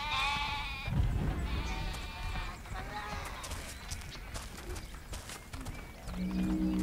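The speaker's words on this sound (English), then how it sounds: "Really? Fucking sheep." Sheep bleat in the fantasy video game Overlord, several wavering cries over a busy game soundscape of clatter and background noise, moderately loud and not far off.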